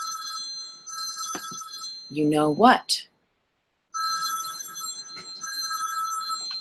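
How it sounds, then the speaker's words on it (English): A telephone rings with repeated electronic bell tones before and after a short burst of talking, loud and close, with a brief silent gap in the middle. "The phone is ringing."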